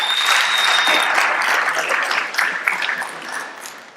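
A crowd claps for the student body president at a leadership talk, a loud, full burst of applause that gradually thins and fades toward the end, with no voices over it.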